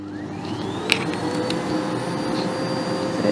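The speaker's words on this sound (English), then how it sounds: "The hoover itself is actually really quiet." A Miele Blizzard CX1 Excellence Powerline bagless vacuum cleaner runs with a steady, fairly quiet whir and a rising whine as the motor spins up, with a few small clicks and no talk.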